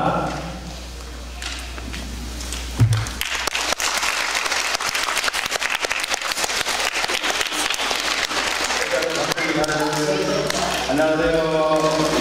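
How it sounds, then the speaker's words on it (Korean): Students at an elementary school assembly break into loud, sustained applause welcoming a lecturer onto the stage, dense clapping filling the room for several seconds before a voice begins speaking near the end. "강사 선생님 나오실 때 큰 박수로 환영해 주시기 바랍니다"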